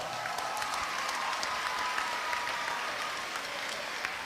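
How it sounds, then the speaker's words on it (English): Audience applause at a cross country team sendoff, steady sustained clapping from a crowd throughout, with no talking over it. "All right, give a round of applause for that."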